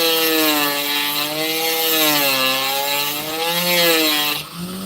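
Power saw grinding steadily through a block of sandstone, a loud continuous whine with wavering pitch that holds for nearly five seconds before dropping off at the end.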